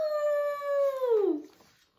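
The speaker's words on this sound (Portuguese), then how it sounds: "Vamos uivar todos juntos!" A wolf in a children's story gives one long howl that holds steady, then slides downward and fades out, alone and close.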